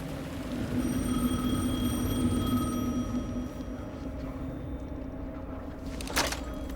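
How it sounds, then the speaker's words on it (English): A telephone rings in the video game Alan Wake 2, its bell-like tone repeating steadily over a dark, droning ambient game soundscape before stopping. "The phone again."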